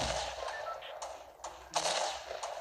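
Tactical shotgun blasts in a video game, several punchy shots spaced irregularly over game noise, with one stronger blast standing out near the end.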